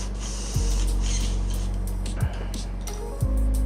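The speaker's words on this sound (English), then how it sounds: "That is another great use for the airbrush." An airbrush sprays paint onto large Warhammer miniatures, giving a steady close hiss over a low compressor hum, broken by three brief clicks.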